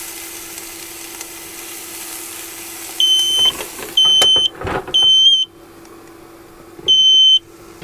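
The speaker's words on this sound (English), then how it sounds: "There goes the smoke alarm." A smoke alarm beeps in four loud, shrill bursts at uneven intervals over a low steady hum, with faint sizzling underneath from an induction toaster.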